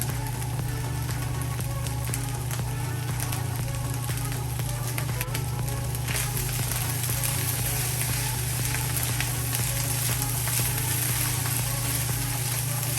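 Chicken fried rice sizzles and crackles steadily in a hot pan as spring onion is stirred in, a continuous frying hiss over a low stove hum, with no one talking.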